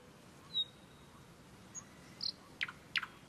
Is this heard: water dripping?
no